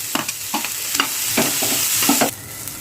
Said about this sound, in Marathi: कांदा तोही आपण छान असा त्यालाही आपण ब्राऊन कलर येईपर्यंत छान असं भाजून घेऊया